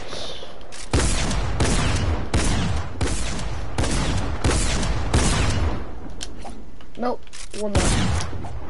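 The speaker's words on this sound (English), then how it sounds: "I'm just gonna waste every single bullet in this gun." A video game gun is fired until it is empty, with long bursts of loud rapid gunfire broken by short pauses, then a few mechanical clicks near the end while a voice speaks briefly.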